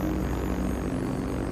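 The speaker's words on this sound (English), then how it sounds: "The V1 gets nicknamed the buzz bomb for the loud noise its jet engine creates." A V1 flying bomb's pulse jet engine produces a loud, continuous buzzing drone with rapid rhythmic pulsing, heard alone and unbroken.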